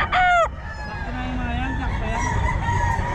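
A young stag gamecock, a Picom white kelso, crows once at Bocaue pet market: a short, loud, rising-and-falling crow up close, followed by a noisy crowd and faint chatter.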